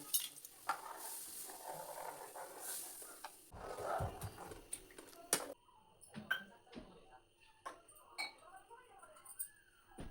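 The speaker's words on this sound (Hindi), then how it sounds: "उधर को देखिए कढ़ी का लगा दिया है मैंने तड़का" Hot oil tempering spices for kadhi sizzles with a crackling hiss for a few seconds, then quiets, followed by scattered clinks of utensils and a metal spoon against a pot.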